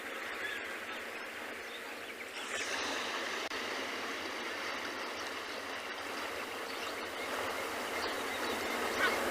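Steady broadband wash of ocean surf rolling continuously at an African penguin colony in Cape Town, a soft even roar that swells slightly after the first couple of seconds, with no voices.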